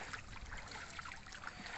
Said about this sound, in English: I'm walking through some really brackish water here.